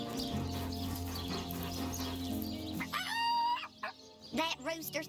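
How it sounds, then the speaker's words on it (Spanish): A rooster crows in Divinity: Original Sin Enhanced Edition, a loud strained call over looping game music and ambience, followed by clucking and short bird sounds. "Someone ought to tell him his waddle waggles when he crows, same as the rest."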